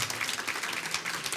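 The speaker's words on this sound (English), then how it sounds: "please give yourselves a round of applause to sticking it out until the end" Applause from a conference audience at a European trade policy event, a brief, steady wash of many hands clapping, fairly quiet and continuous throughout.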